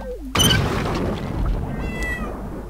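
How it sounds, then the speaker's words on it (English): A cat meows once, loud and close, with a strained, rising cry followed by a harsh burst of noise and a crash-like rumble in a cartoonish time-machine scene. "Oh, poor cat."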